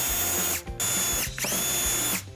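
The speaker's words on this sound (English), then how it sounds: "we can mark out the 2 holes using a 3/16 drill bit" A power drill with a 3/16-inch bit drills holes in a 2010-2022 Lexus RX450H, whining loudly at steady speed, stopping briefly twice and then restarting, three bursts in quick succession.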